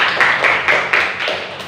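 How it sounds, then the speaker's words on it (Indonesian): A class of students clapping hands together in a classroom, a short burst of several rhythmic, fairly loud claps close by. "Tepuk tangan dulu."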